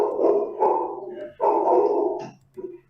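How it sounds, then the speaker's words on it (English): Dogs bark in bursts of several loud, close barks with short pauses, the barking stopping and starting again, heard indoors during a live broadcast with no talk over them. "We got dogs barking there."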